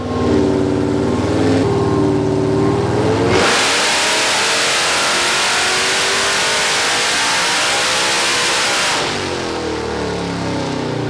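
A 2023 Ford 6.7 Powerstroke high-output diesel truck engine on a hub dyno revs hard and climbs to a roaring, high-pitched scream, holds there, then eases back down, close and continuous.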